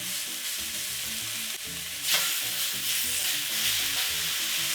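Beef searing on smoking-hot cast iron in olive oil, a steady loud crackling sizzle throughout that surges as the meat hits the pan around midway, with no talking.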